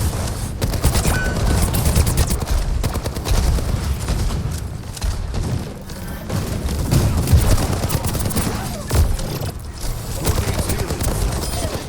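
Rapid automatic rifle fire from a Soldier character in the Overwatch video game, sustained bursts of gunshots filling the whole stretch, loud and close, with faint game noise and occasional talk underneath.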